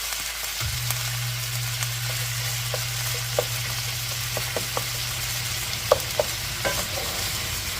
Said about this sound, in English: Stir fry for a couple of minutes